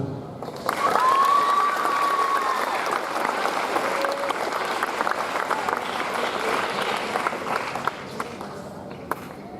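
Students at a school assembly give sustained applause, a broad roar of many hands clapping with a short whistle-like tone near the start and a few sharp claps standing out as it tapers.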